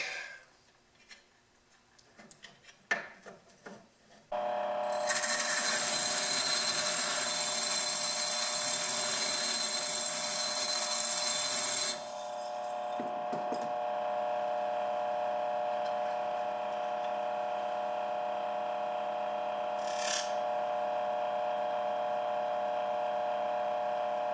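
A plane iron being cambered is honed on a finer sharpening stone, starting with a few light clicks and handling noises before a steady, loud, close mechanical whir sets in and continues, easing slightly midway.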